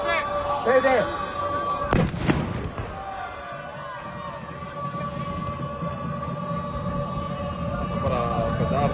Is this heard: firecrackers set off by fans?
yes